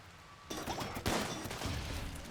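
Automated turret gunfire in Rimworld during a dinosaur raid, a quiet burst of rapid overlapping shots that kicks in suddenly and keeps rattling with a second surge partway through, all fairly faint and without voices.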